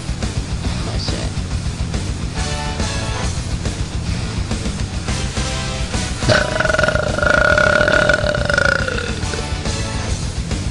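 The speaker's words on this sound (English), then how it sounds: "have you ever guys heard a girl's belches sound this chunky before?" A woman lets out a long chain of deep, chunky, gurgling belches, close to the mic and loud, one rolling into the next with a raspy rumble throughout.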